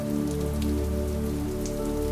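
Steady rain patters against a window pane in a quiet indoor setting, a close, even hiss of droplets running on without pause for the whole stretch, with no voices present.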